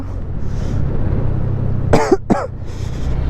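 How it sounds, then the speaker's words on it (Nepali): Two sharp, harsh coughs in quick succession from a cold, close by, over a low rumbling background like a running engine, in Mustang, Nepal. "खोकी लाग्छ त है चिसो भइसक्यो हौ"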